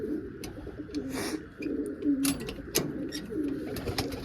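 Pigeons coo softly and repeatedly nearby, low rolling calls returning every second or so, with occasional clicks and rustles in the background.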